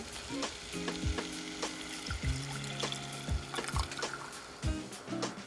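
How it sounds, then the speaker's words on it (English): Whole milk poured into a hot butter and flour roux crackles and sizzles in quick bursts, with scraping stirs and soft bubbling, fairly quiet and without talk. "So I'm going to go ahead and add my first cup of whole milk here."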